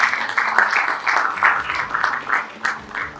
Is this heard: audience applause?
yes